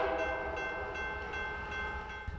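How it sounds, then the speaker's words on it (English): A train runs near a one-lane historic bridge, a steady rumbling drone with sustained tonal hum like a distant horn, moderately loud and continuous for a couple of seconds, with no talk. "You also might have to wait for a train."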